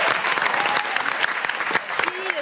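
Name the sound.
applause from studio audience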